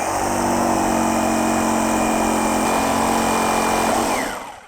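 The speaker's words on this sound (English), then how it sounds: "let's see if this jigsaw works" A jigsaw cuts metal stock for a bench grinder tool rest, giving a loud, steady buzzing roar up close for about four seconds before it stops.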